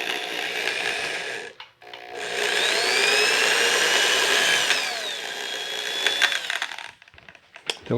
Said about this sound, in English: Be right back with the drill.